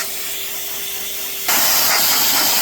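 A blow dryer roars steadily over a Turkish Angora cat, its broadband airflow hiss stepping up abruptly to a louder, stronger setting partway through, then holding steady and close.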